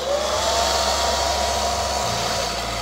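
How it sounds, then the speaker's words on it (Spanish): A heat dryer for lifting guitar pickguards runs steadily and loudly, warming the pickguard of a 1999 Hermanos Conde flamenco guitar; a continuous whooshing blower with a motor hum that shifts pitch slightly about two seconds in. "utilizo mi secador de levantar golpeadores"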